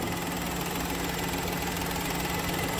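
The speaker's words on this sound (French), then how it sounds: "le petit 3 cylindres, moteur essence" A small three-cylinder petrol engine in a 2020 Citroën C3 idles steadily, a low, even throb with a slight knocking rhythm, close by and uninterrupted.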